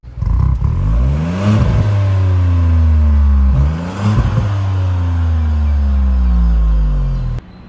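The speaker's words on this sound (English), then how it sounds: "these dual exhaust tips which give the car a really very throaty sound" Tata Altroz Racer hatchback with dual exhaust tips revving hard in two long surges, each climbing steeply then dropping back, loud and close, with a throaty, steady engine note between the pulls.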